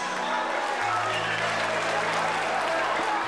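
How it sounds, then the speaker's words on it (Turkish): Wedding guests in a large crowd of about 800 applauding, a continuous loud wash of clapping with a steady tone droning beneath and voices mixed in. "Alkışlar efendim gençler"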